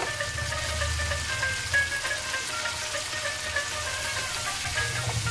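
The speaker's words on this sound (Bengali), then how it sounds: "গরম তেলে কাঁকড়াগুলো ভেজে নেবে" Crabs fry in hot mustard oil with salt and turmeric, giving a continuous, even crackling sizzle that holds at a moderate level with no talk.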